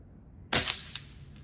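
An air rifle fires a single sharp shot at a championship shoot, a loud crack with a short ringing tail and a couple of faint echoes after, with no talking.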